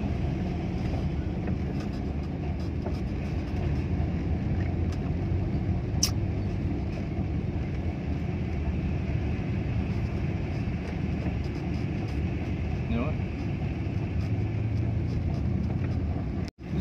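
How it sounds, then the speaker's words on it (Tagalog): Slow-moving traffic with trucks on the North Luzon Expressway, a steady low engine rumble heard from inside a vehicle creeping along, with a brief sharp click near the end. "So traffic ngayon."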